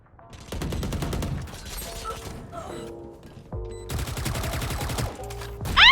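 Rapid gunfire from the video game Valorant, bursts of sharp repeated shots separated by brief pauses, with game effect tones between volleys and a loud final burst.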